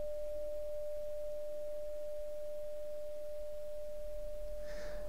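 A Tibetan singing bowl rings a single sustained, steady tone that hangs evenly for several seconds, with a faint soft rustle near the end.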